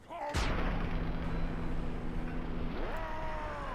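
A plasma grenade detonates in Fallout 3 with a sudden loud blast, followed by a sustained humming, rumbling tail that shifts upward in pitch near the end, heard alone without talk.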